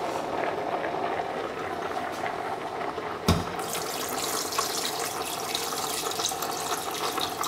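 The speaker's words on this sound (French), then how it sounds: "on va mouiller donc avec les 5 litres d'eau" Five litres of water poured into a pot of homemade fish soup in a kitchen, a steady close splashing and running-water wash with a brief louder splash partway through, no talking.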